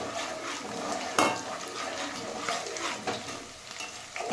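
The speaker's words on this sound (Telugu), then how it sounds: "మంచిగా మిక్స్ చేయాలి" Biryani being stirred in a cooking pot, with a continuous scraping and sizzling mix of ladle against metal, one sharp clank near the start, close and moderately loud.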